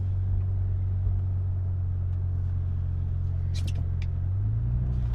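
A V10 BMW M5 with an ABS fault drives along, its engine a steady low rumble from inside the cabin, a faint shift in pitch near the end.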